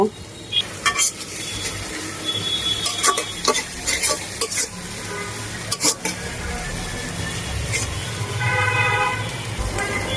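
Fish sizzles in a hot pan while a utensil repeatedly scrapes and clanks against it, the sharp knocks punctuating the steady frying.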